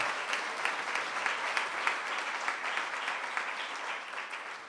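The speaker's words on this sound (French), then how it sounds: "ça vaut une bonne main d'applaudissement" A room full of people claps warmly in thanks for a cheese sponsor at an evening community activity, an even, sustained round of applause with dense overlapping hand claps from start to finish.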